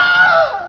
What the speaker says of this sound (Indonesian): Lelaki yang tidak berpakaian yang sedang membawa wadah berisi sesuatu yang panas itu menjerit-jerit kesakitan.